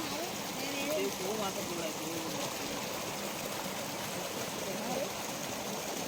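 River water rushing and gurgling near a Rameshwar temple in Konkan, a steady broad wash of flowing water with a voice speaking faintly over it.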